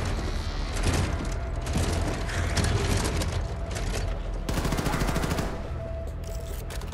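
Gunfire in the video game Wolfenstein II, sustained rapid machine-gun bursts with heavy booms and mechanical clatter, loud and close, with brief pauses between volleys.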